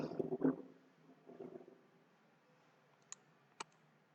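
Two crisp computer mouse clicks sound close up and well apart near the end, after a few soft muffled bumps and rustles at the start.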